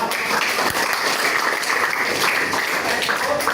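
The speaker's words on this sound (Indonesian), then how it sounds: "kita beri tepuk tangan kepada kelompok 2" Classmates in a programming lesson applaud a presenting group, steady continuous clapping from a small room full of people, close and fairly loud throughout.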